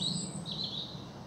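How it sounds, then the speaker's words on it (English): Birdsong drifts through spring woodland on a heath-side footpath in Surrey near Oxted, a steady run of high chirps and tweets at moderate distance with no talking. "Plenty of birdsong around today."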